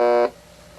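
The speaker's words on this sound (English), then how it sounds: "when you sound the buzzer, it doesn't stop sounding" Soundesign 3636-A clock radio alarm buzzer giving a loud, harsh electronic drone that cuts off abruptly after a quarter second, leaving quiet room tone.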